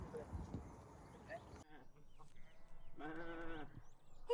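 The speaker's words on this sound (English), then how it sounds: "It's a sheep family." Sheep in farm country near Lake Wanaka, New Zealand, give a single wavering bleat toward the end, preceded by wind noise and outdoor rustle.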